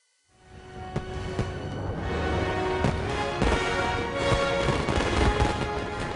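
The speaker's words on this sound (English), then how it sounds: "A fireworks extravaganza to open the most expensive World Expo ever." Fireworks display opening the Shanghai World Expo, a continuous loud barrage of booming bursts and crackling explosions with sharp repeated reports over a dense roaring wash, building from near silence and sustained throughout.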